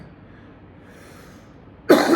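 A single sharp cough bursts out near the end after quiet room tone, close and loud.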